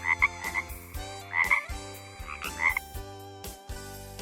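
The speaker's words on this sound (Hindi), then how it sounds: "मेंढक," A frog croaks repeatedly in bursts against a background of music, the calls clear and moderately loud with short pauses between them.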